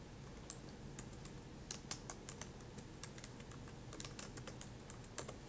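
Keys clatter on a computer keyboard during spreadsheet work, quiet irregular taps and clicks in small clusters over a faint steady background hiss, with no talking.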